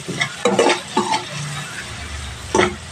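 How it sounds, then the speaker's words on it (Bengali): Bitter gourd, potato and pumpkin fry together in a pan, a close sizzle punctuated by several scraping stir strokes and light utensil clinks against the metal. "প্রথমে একটু উচ্ছেটা ভাজা ভাজা করে নেব তারপর আলুটা দেব তারপর সব শেষে কুমড়ো দেবো এইভাবে ভেজে নিতে হবে"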